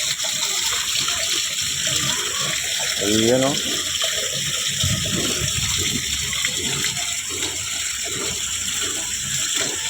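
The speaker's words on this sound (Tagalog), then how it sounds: "Oh, lakas ng tubig guys." Strong, continuous gush of water pouring from an outlet, loud and close, a steady roaring flow that holds throughout while someone speaks briefly over it.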